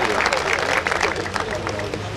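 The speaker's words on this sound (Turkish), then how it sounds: "sizlerin de güçlü ve kuvvetli alkışlarıyla buraya davet ediyorum" An outdoor crowd at a civic ceremony in Seğmenler Park applauds steadily as the mayor is welcomed, dense clapping filling the moment with a murmur of voices underneath.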